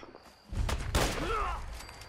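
Turret gunfire in Fallout 4, a short sharp burst that swells midway through and lingers, heard amid game ambience with a brief tonal effect.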